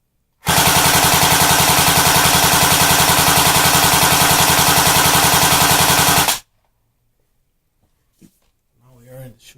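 A Double Eagle M83 A2 M4-style electric airsoft rifle fires BBs in one long full-auto burst of about six seconds, a loud, rapid mechanical buzzing rattle that cuts off abruptly, followed by faint handling noises.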